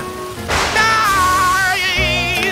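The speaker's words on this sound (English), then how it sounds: "Stop this awful rain!" Heavy cartoon rain in Kung Fu Masters of the Zodiac sets in abruptly as a loud, hissing wash of downpour with a faint whistling tone above it, and no voices.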